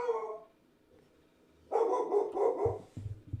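A pet dog barks at close range in a house, with a couple of sharp barks at the start and then a louder run of repeated barks and yips after a short quiet gap.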